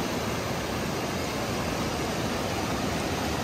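The Ganga river rushes fast at Uttarkashi, giving a constant, loud, hissing roar of water with no break and no talk.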